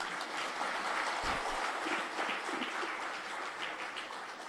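Audience applause at a Tamil pattimanram debate show, a steady wash of clapping from a hall crowd that holds at an even level throughout, with no speech over it.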